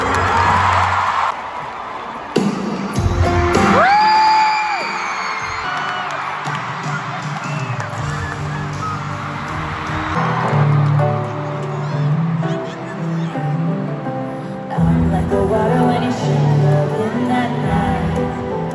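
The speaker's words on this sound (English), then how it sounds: "if we could all please applaud the erastour crew" A Taylor Swift Eras Tour stadium crowd applauds and cheers for the show's crew, a loud, sustained roar of clapping with whoops and whistles rising and falling over nearly twenty seconds.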